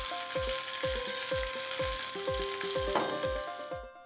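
Hot tempering seasoning poured into a pot of brinjal and drumstick sambar, giving a steady close sizzle and crackle with repeated knocks of a spoon or pan, fading near the end.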